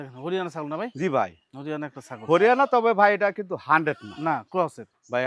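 A goat offered for sale bleats repeatedly, loud and close, in a string of wavering calls with short gaps between them, with nothing else heard around them.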